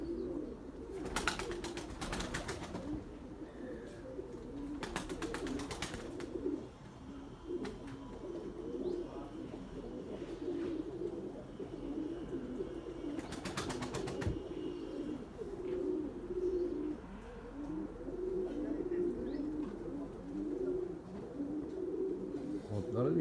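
A domestic pigeon named Gökbey coos low and repeatedly nearby, with several bursts of wing flapping over a steady outdoor background.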